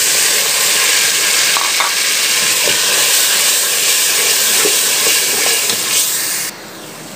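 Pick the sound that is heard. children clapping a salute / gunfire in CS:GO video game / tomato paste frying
tomato paste frying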